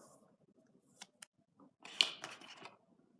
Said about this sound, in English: On the top we got this plastic covering. Let's peel it off.